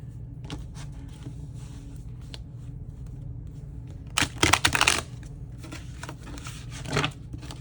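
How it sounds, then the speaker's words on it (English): Tarot cards are shuffled in quick, crisp riffles: a loud burst of flapping and snapping, then a softer second riffle, close up, with no talking. "Give it another shuffle."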